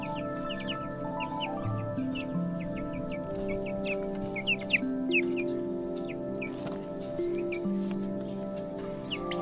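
Chickens and chicks on a farm in Portugal in spring, with soft overlapping clucks and murmurs plus scattered high chirps, moderately close and continuous.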